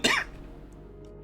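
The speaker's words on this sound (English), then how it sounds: "Also apologize for the cough every now and then." A single sharp cough, close and fairly loud, bursts out at the very start and fades quickly into quiet room tone, from someone with windblown allergies during a relaxed art stream.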